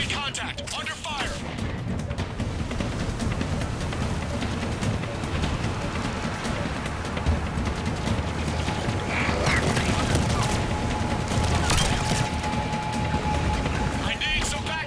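Gunfire in the game Mass Effect during a firefight near a shuttle, a dense continuous barrage of shots and mechanical clatter with loud bursts toward the end, under radio-style talk.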